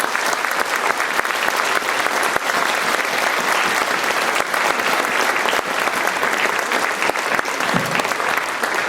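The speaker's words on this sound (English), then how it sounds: "give them another round of applause" Audience at a Lancaster High School spring concert breaks into sustained, dense applause, steady and full throughout with no pause in the clapping.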